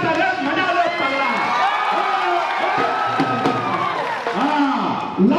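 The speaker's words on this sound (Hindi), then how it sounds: "देखो जोरदार ताली" A packed crowd at a Bhojpuri film event for "Kashi Amarnath" keeps up loud cheering, whoops and shouting, with a few claps, for the whole stretch.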